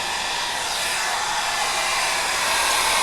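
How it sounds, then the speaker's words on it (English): A hair dryer drying chalk on a silkscreen blows as a continuous, even airy roar, close and steady for the whole stretch, with no talking over it. "Give it a quick dry with my hair dryer."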